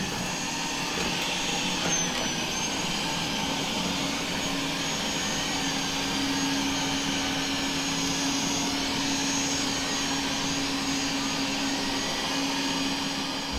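A 360 robotic vacuum cleaner runs with a steady, continuous whir and a constant motor hum, close and fairly loud, with no speech.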